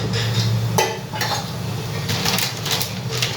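Oil poured into a steel pot of boiling salted water, bringing a soft sizzle and a couple of light metallic clinks over a steady bubbling roar, close and continuous.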